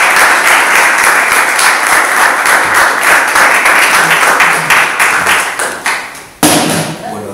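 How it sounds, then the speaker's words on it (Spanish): Loud audience applause fills a university lecture hall as a speaker is welcomed, dense steady clapping with scattered thumps that thins briefly near the end before surging again. "Entonces, por favor, con un fuerte aplauso."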